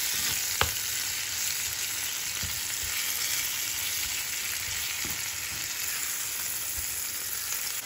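Ground meat frying with onions in a pan, giving a loud, continuous crackling sizzle with a few occasional utensil knocks and no talking.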